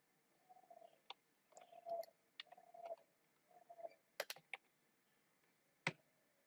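A reference number is typed on a computer keyboard as scattered, separate key taps, close and quiet, with short pauses between them against a faint background hum.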